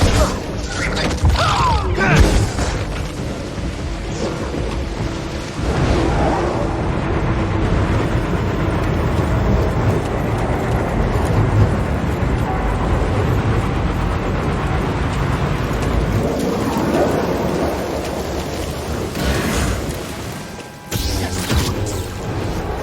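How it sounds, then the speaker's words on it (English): A moving train in Star Wars Jedi Fallen Order rumbles and clanks continuously and loudly, with booming crashes mixed in, under in-game action noise. "Get to the front, stop the train."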